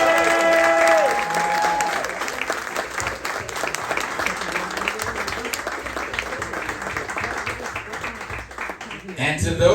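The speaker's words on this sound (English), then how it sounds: "big round of applause for the owners of Barbie" Audience applause at a bar gathering, a sustained round of clapping from a crowd that fills the whole stretch, loud and dense with some voices mixed in.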